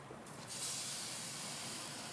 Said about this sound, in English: Ooh, steam.